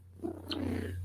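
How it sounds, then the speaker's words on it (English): A pet cat purring softly in a steady low rumble, close and quiet, with a faint steady hum underneath. "She purring."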